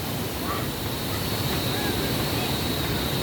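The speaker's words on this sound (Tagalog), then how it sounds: "Lakas ng tubig." Steady, powerful rush of water roaring continuously at an irrigation dam in Bansalan, Davao del Sur, broadband and unbroken like a torrent pouring through a channel, with no voices over it.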